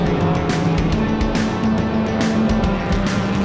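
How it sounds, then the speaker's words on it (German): A race car at the Oschersleben circuit drifting wildly through a gravel trap, a steady loud engine roar with gritty noise from the gravel throughout. "Knapp verfehlt den Reifenstapel in diesem wilden Drift durchs Kiesbett."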